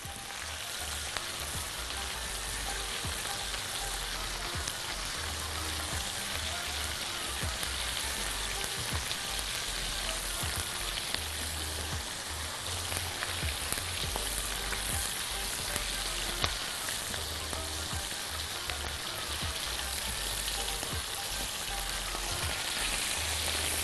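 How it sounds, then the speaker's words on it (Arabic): Garlic, mushrooms and meat fry in a pan with a constant dense sizzle and crackle, close and fairly loud throughout, with occasional stirring scrapes mixed into the steady hiss. "هحط بعد كده المشروم. وهنقلب كل ده مع بعضه."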